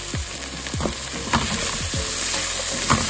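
Chopped tomatoes and half-softened onions sizzle in a pan for a hot, spicy Sri Lankan chicken curry, with steady frying hiss and a few scraping stirs of a spoon, close and fairly loud, no talking.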